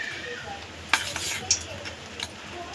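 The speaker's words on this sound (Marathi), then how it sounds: "हे पूर्ण ह्या बेसनपीठामध्ये व्यवस्थित घोळून घ्यायचे" Cauliflower pieces being mixed and coated in gram flour batter, soft wet stirring with a few clinks of a utensil against the bowl, fairly close.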